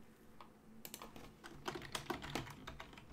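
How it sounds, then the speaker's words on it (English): Typing on a computer keyboard during an in-game test, a quick uneven run of close, crisp key clicks that starts after a short quiet lead-in and carries on to the end, with no one talking. "I'm typing in game because I'm testing something"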